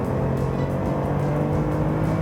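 A BMW E46 M3 engine droning steadily while driving at around 30 mph, a loud continuous in-cabin engine and road roar with no pauses.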